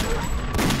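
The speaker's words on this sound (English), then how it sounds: "A gunshot." A gunshot in a video game gives a loud, sharp burst of fire that fills the short moment with a dense crack and rumble.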